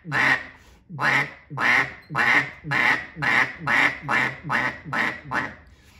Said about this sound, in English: I'm vibrating the larynx right there, getting that quack